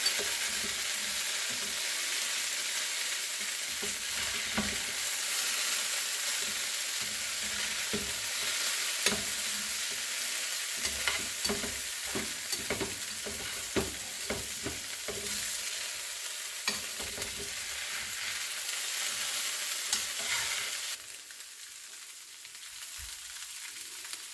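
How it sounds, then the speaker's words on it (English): Crispy orzo frying in a pan keeps up a continuous sizzle while a utensil stirs and scrapes it in irregular strokes, close and steady, then the hiss drops off near the end; nobody speaks. "it's starting to get crispy on the bottom, so we're just going to stir it up a little"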